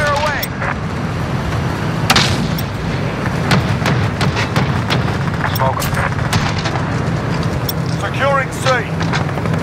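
Heavy 105mm artillery rounds boom repeatedly in the military game ARMA, dull blasts repeating over a constant rumbling battle din, with radio-style voices talking underneath.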